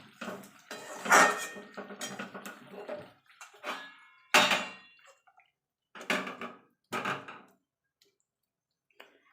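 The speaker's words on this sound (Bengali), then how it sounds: "এবার আমি এটাকে নাড়িয়ে দেবো" Potato curry (aloo dum, made without onion or garlic, finished with ghee and coriander leaves) stirred in a metal pot: a handful of loud, close spoon scrapes and clanks separated by near-silent pauses, with no sizzling.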